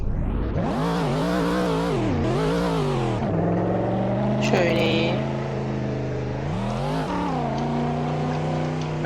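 In a parkour obby video game, a car engine drives and revs, its pitch climbing and dropping in repeated surges as it accelerates, with someone talking over it.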